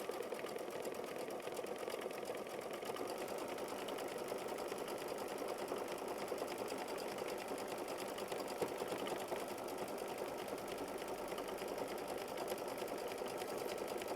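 Embroidery machine stitching a running bean stitch along a stem and two leaves of a quilt block, a steady rapid mechanical whir and tapping that runs continuously with no talk.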